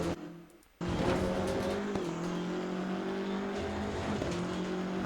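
BMW M6 GT3 race car in the Assetto Corsa Competizione racing game: a loud, steady engine drone holding high revs under load, with brief shifts in pitch, heard alone.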